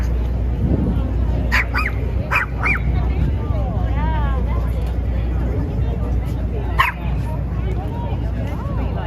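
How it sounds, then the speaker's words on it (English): A Chihuahua gives a few sharp, high yips and barks at an outdoor Easter parade in New York City, set against a steady crowd and street rumble, with people talking throughout. "I don't know why Chihuahuas are like always angry"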